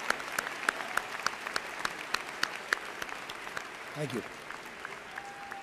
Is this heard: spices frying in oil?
no